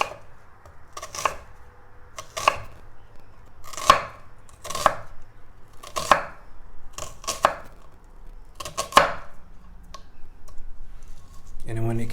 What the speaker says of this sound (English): we're gonna cut some onions